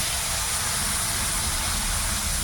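Spice paste hits hot oil in a pan while cooking a green jackfruit curry, giving a steady, loud, unbroken sizzle and hiss for the whole stretch.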